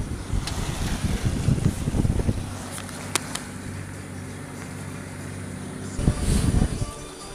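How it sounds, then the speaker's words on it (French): Wind gusting over a sailboat under way at sea on a Corsica cruise from Figari to Ajaccio, a steady rushing roar with louder buffeting bursts near the start and again toward the end, a low droning hum running underneath. "on dirait que le vent se relève"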